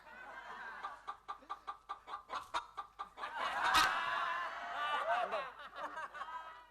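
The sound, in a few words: crying imitating chicken clucking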